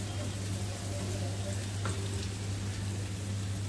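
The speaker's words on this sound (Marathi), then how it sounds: "टोमॅटो पण चांगलं परतून घेऊया" Tomato sautéing in a pan for a prawn sandwich filling, a steady close sizzle and frying hiss over a constant low hum, continuous throughout.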